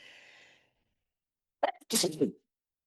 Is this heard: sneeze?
yes